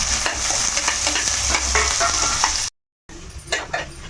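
Chopped onions and green chillies fry in hot oil in a pan, a loud, constant sizzle with stirring scrapes running through it, broken by a brief dead-silent gap before the frying resumes.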